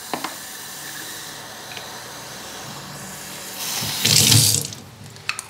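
Tap water runs steadily into a bottle, hissing and splashing, then rises in a louder gurgling surge as the bottle fills to the top before tapering off with a few drips.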